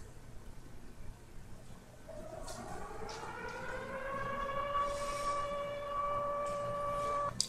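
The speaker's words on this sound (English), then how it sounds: "there's our tornado siren" A tornado siren sound effect rises into a steady wailing tone with harmonics, swelling in loudness and holding to the end, faint and alone.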